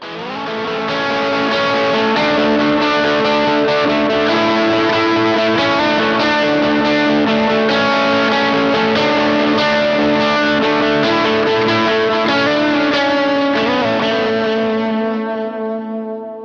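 An overdriven electric guitar through a Westminster Effects Geneva amp sim plays a sustained lead line soaked in delay and reverb, loud and continuous, with notes ringing into echoes.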